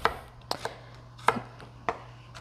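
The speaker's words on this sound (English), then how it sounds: "So I smashed the garlic cloves." Garlic cloves are smashed on a board with sharp, close knocks, about five distinct hits spaced irregularly, standing out over a quiet background hum.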